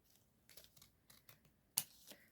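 Scissors snip through a paper edging strip for a snippet roll in a crafting session, a few quiet crisp cuts with one sharper snip near the end, close and alone with no talk.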